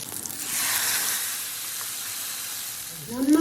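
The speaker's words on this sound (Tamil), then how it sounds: "அரைச்ச மசாலா பாக்கி இருந்தால் அந்த எண்ணெயிலே போட்டு நல்லா வதக்கிங்கோ." Ground masala paste sautéing in oil in a kadai gives a steady, close sizzle and hiss throughout, with a brief stir or scrape at the end.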